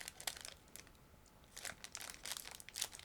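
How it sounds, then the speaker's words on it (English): Crinkly plastic of a sealed bag holding canopy sprue parts from a Miniart 1/48 Thunderbolt Mk.II model kit is torn open and handled, close bursts of crackling and rustling with short pauses between. "It's sealed bag again, but it's going to be quick to open,"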